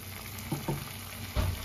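Almond and cashew paste fries in a pan with potol and prawns, giving a steady close sizzle with a few soft bubbling pops and stirring bumps, moderately quiet and without voices.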